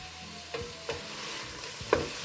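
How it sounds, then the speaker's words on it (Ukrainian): Vegetables cook in a covered pan, giving a continuous soft sizzle and bubble with a few light clinks or knocks, close and fairly quiet, with no voices. "накриваю кришкою, трохи тушкую"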